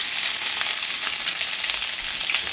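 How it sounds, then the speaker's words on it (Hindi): Ginger and garlic fry in oil while cooking bitter gourd with onion, a loud, close, continuous sizzle with a crackling texture and faint stirring, no speech. "अब हम इसमें डालेंगे जिंजर एंड गार्लिक का 1 टेबलस्पून।"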